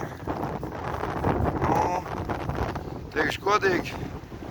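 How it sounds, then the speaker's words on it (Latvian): Strong wind buffets the microphone by Burtnieki lake in Latvia, a steady broadband roar running the whole time beneath close conversation. "jūras vējš ir stiprāks"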